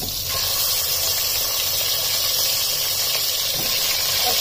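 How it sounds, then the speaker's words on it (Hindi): Chicken pieces sautéing in hot mustard oil with salt and a spoon of garlic paste, giving a steady, loud close-up sizzle and hiss that runs unbroken throughout. "और चिकन को हम दोस्तों सॉटे करेंगे"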